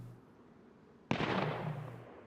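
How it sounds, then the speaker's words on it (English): Gunfire close by in the survival video game DayZ: one sharp, loud report that breaks a quiet ambience, followed by a sustained burst of rattling noise lasting about a second, with no talk. "Why'd there have to be gunshots so close?"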